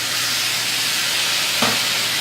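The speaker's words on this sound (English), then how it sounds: "And you want it to sizzle." Steady hiss of shrimp sizzling in a hot pan with celery, continuous and close, with a brief louder crackle near the end.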